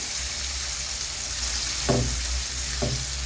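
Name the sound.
onions sautéing in oil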